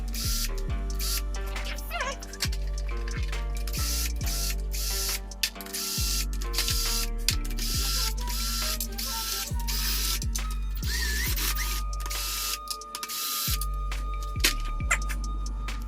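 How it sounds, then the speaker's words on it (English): A hand ratchet loosens the casing bolts on an A20 transmission, giving loud, close, rapid clicking runs that stop and restart repeatedly, with short pauses between bolts. "once you crack all these loose and they're just pretty much finger loose, then you can go however you want to loosen it"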